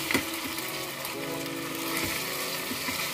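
Onions fry in a pan over high gas for a Punjabi chicken gravy, giving a steady close sizzle with a few soft stirring knocks, no voices.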